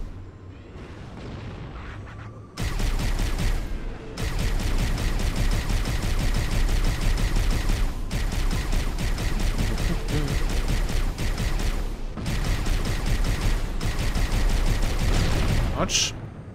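Sustained automatic weapon fire in Halo: Combat Evolved, with dense, loud bursts lasting several seconds each and separated by brief gaps, plus a few explosive thumps.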